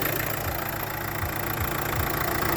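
A 2017 Renault Megane 4 with a 1.5 diesel K9K engine idles, a steady, close, even rumble with a faint rhythmic knock and no talking over it.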